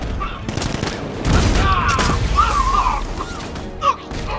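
Sentry gun firing in Batman Arkham Knight, loud rapid bursts of gunfire with crashing impacts and game voices over the top, building through the middle and ending with a sharp hit.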